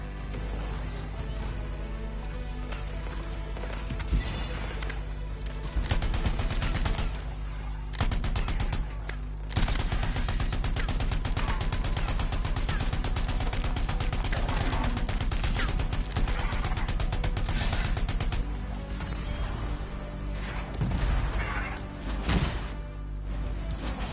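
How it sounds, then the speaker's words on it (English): Rapid automatic turret fire in the sci-fi shooter Anthem, sustained loud bursts of gunfire layered over a dense game soundtrack and explosions, with no talking. "They've got turrets of some sort. Those will ruin your day."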